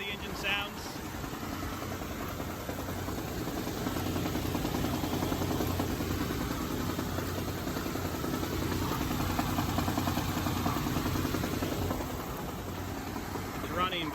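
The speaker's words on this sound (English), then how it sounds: "Here's how the engine sounds." A Citroen SM's engine idles steadily and evenly throughout, a close continuous rumble with a faint high whine on top.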